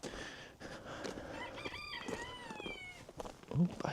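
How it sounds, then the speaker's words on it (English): Young backyard chickens crow in a flock outdoors, several strained, rising crows overlapping with clucks, moderately close and fairly faint, while a person speaks nearby. "I hear the little guys crowing."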